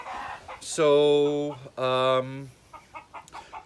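Backyard chickens kept on a small homestead with ducks call out in loud, close, drawn-out squawks and clucks, two long calls followed by softer short clucks, with a brief word spoken.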